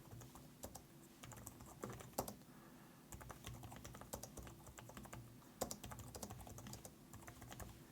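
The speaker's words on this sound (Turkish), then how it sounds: "Klavyede yazmaya başlayalım." Typing on a MIIIW keyboard paired with a tablet, a quiet stream of light, rapid key clicks with occasional sharper taps and brief pauses, heard up close with no talking.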